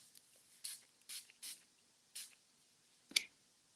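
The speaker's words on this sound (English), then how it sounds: "we can spritz our paper" A small spray bottle spritzes water onto watercolor paper in five or six quick, soft hissing bursts, close and quiet, followed by a sharper tap.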